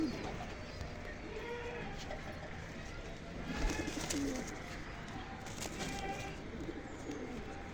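Young pigeons coo in soft, repeated low murmurs among other bird calls, fairly close, with a steady background of chirps and rustle and no clear talk.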